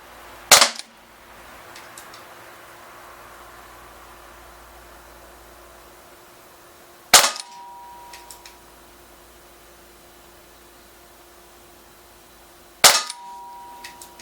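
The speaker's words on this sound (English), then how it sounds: "we are shooting in single action for this test" A Crosman 357 .177 CO2 pellet revolver fired in single action, three sharp, loud cracks spaced several seconds apart, each followed by a brief metallic ring, with quiet room tone between shots and no talking.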